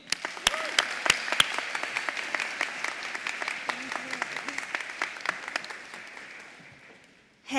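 Audience applause fills a convocation hall as a college speaker is welcomed to the stage, dense steady clapping with a few sharp nearby claps, fading out toward the end.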